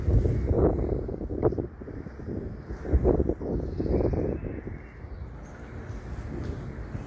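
Gusty wind buffeting a microphone outdoors on a hot summer day near water, irregular low rumbling bursts that rise and fall over several seconds, fairly close and moderately loud, with no clear talk.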